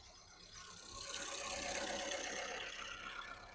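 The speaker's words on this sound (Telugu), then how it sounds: "ఇంజన్ బీటింగ్ అయితే మంచిగానే ఉంది." A 2011–2014 Volkswagen Vento Highline diesel with about 130,000 km runs at a steady idle, a close, even mechanical clatter and hum that holds at a constant level throughout.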